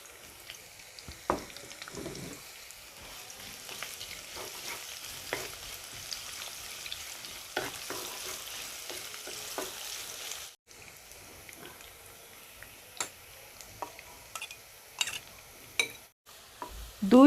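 Chopped onions fry in a pan with whole cloves, cardamom and cinnamon, a low, steady sizzle broken by scattered scrapes and stirring clicks, fairly quiet and close, with no talk.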